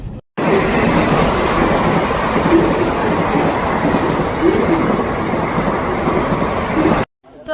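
A train at Lalbag railway station rumbles loud and continuous, a dense rattling roar that starts abruptly and cuts off just before the end, with faint voices mixed in.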